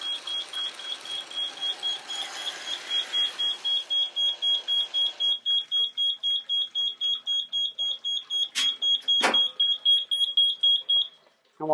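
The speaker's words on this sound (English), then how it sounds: "And we'll silence that alarm." A fire sprinkler system alarm pulses in rapid, even electronic beeps after the flow switch trips, loud and close, continuing for several seconds before cutting off, with a couple of sharp clicks near the end.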